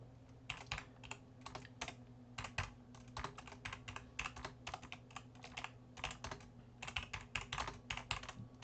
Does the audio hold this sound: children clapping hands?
no